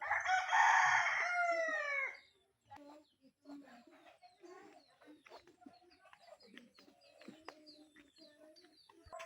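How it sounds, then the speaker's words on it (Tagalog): A rooster crows loudly and close for about two seconds in a rural Philippine village, followed by scattered soft clucks from chickens and a voice talking in the background. "Daming yun, manok guys."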